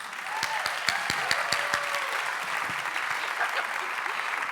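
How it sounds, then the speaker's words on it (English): An audience at the SSNAP Awards 2025 ceremony bursts into warm, sustained applause, a close and steady crackle of many hands clapping that holds throughout with a few individual sharp claps standing out. "please give her a round of applause"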